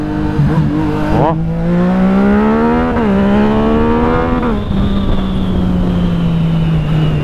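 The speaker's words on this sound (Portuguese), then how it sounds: "Dá uns pipocos no escape, que, pelo amor de Deus." A motorcycle engine revs loudly up close, its pitch climbing and dipping in repeated throttle blips over a steady idle that settles toward the end.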